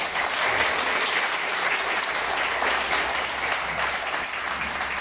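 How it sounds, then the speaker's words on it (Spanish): Congregation applauding during a Sabbath church service, dense sustained clapping from many people, steady and loud throughout with no pause. "Vamos a darle un aplauso a Dios."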